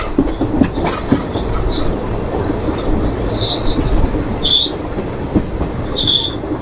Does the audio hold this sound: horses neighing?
no